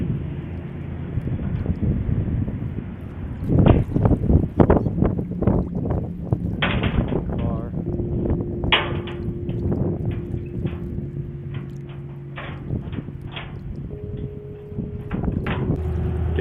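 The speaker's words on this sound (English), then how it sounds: "Getting the Roush Mustang off the trailer here" A Roush 427 Mustang with a regular clutch rolls off a trailer, its engine rumbling low with several revving bursts and rattling clunks, wind buffeting the microphone throughout.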